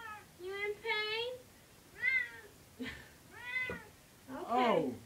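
A cat being bathed lets out several drawn-out, groan-like moans and yowls in separate bursts, fairly close and loud, with people talking around them.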